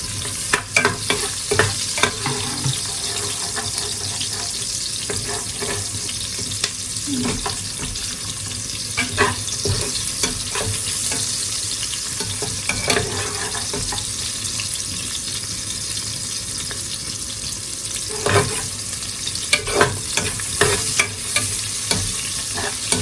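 Pork leg and onions being stirred in a pan, with a steady sizzle of frying throughout and repeated scraping, clattering stirs scattered across the clip, close and fairly loud, no talking.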